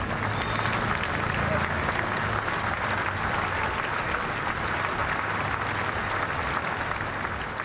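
Sustained applause from a large crowd lining a street in Scotland as the Queen's coffin passes, steady dense clapping throughout with a low rumble beneath and no speech.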